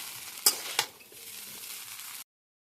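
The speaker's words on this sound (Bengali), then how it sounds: "সয়া সসের পর একটু ভিনিগার দিয়ে দিলাম, তারপর একটু নেড়ে নেড়ে" Egg chowmein is stirred in a pan with soy sauce and vinegar: two sharp clinks of a utensil against the pan, then a soft, steady sizzle that stops abruptly.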